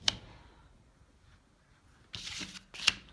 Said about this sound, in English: So you pull a card, move 2 spaces.